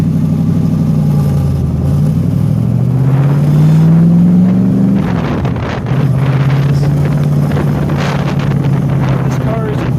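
A replica 1964 ERA Shelby Cobra FIA race car with a vintage 302 V8 stroked to 347, Wiseco pistons and solid lifters, idling and revving loudly outdoors. Its deep engine rumble rises in pitch, then settles back to a steady idle under wind buffeting.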